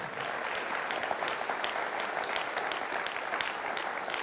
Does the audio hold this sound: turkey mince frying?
no